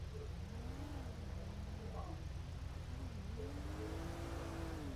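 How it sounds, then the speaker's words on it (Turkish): Traffic in GTA 5 drives past at a red light, a steady drone of engines with mid-pitched revs rising and falling as cars pass at moderate distance. "Arabalar geçiyor"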